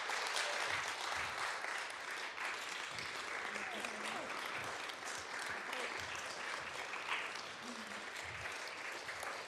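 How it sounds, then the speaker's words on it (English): An audience gives sustained applause for Gullah Geechee storyteller Ms. Hilliard, a steady wash of many clapping hands lasting the whole stretch with a faint murmur underneath. "If we could give her another applause."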